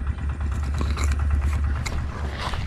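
Motorcycle engine idling or puttering nearby during an outing for airgun fishing, a steady low rumble with irregular clicks and scrapes on top, no talk.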